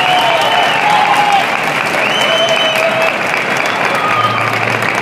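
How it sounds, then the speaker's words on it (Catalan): A convention audience at Japan Weekend Valencia 2015 bursts into sustained applause, loud and close, with a crowd's cheers and calls mixed into the continuous clapping. "Aplaudir, a veure, una prova,"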